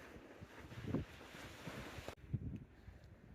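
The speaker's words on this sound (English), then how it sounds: "as you can hear and see, the wind is still rather fierce out here" Fierce wind gusts buffet the microphone outdoors on a winter night, a rough rushing roar with a few swells and a sudden drop partway through.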